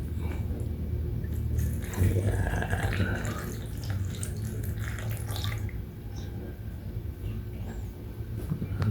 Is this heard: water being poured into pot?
yes